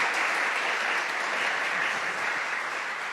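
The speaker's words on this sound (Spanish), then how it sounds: "Denles un fuerte aplauso a todos y una bienvenida." Church congregation applause in a large hall, a dense, continuous wash of clapping heard from a slight distance, steady and even from start to finish.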